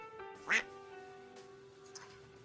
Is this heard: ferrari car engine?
no